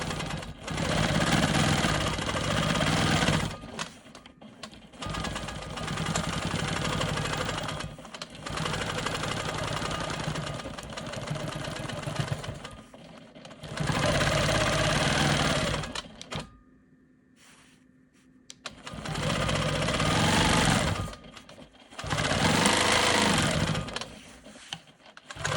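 A Quilt Maker Pro 20 quilting machine runs stitching in the ditch on a quilt block, its rapid mechanical chatter steady and close. The stitching comes in several long runs separated by short pauses and one longer quiet stop.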